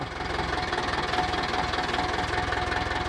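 A Yanmar tractor engine runs close by, a steady loud mechanical drone with an even, rapid knocking pulse throughout and no pauses.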